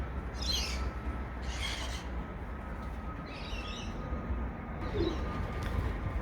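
Racing pigeons, 72 birds, are let out of their loft outdoors, giving several soft bursts of wing flutter with faint cooing over steady background rumble.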